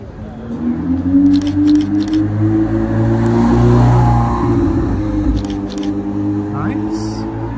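Ferrari 488 supercar passing through a village street in Alderley Edge, its engine note swelling to a loud peak mid-clip then easing, with people talking nearby throughout.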